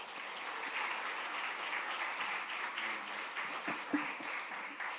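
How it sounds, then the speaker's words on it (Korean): Steady applause from a church congregation at a Sunday service welcoming a pastor, sustained and even for several seconds with a few louder claps near the end. "우리 목사님 보내주신 하나님께 감사 박수 드리면서"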